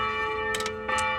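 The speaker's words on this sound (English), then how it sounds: "once again it's that fucking annoying church bell in the background again" A church bell rings in the background, its sustained, ringing tone steady across the short moment, with a couple of faint rustling bursts on top.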